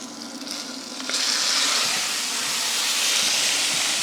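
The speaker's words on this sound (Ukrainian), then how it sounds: "Як її вимкнути, бо вона зараз буде дуже шипіти." A hot frying pan on a kitchen stove breaks into a loud, steady sizzling hiss that surges after a second and keeps going close up.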